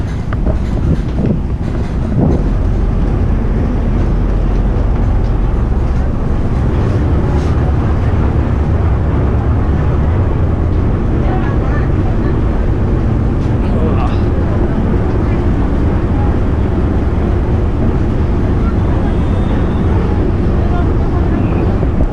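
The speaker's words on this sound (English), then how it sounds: "Ferry's here." Ferry boat arriving at a pier in Bangkok, a loud, continuous low rumble of engine and churning water mixed with wind buffeting, with voices talking underneath throughout.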